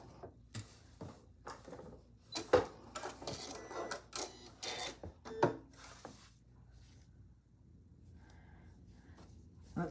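A sewing machine runs in short bursts, back-stitching across the end of a zipper pouch, with irregular mechanical clicks, whirs and fabric handling between quiet pauses.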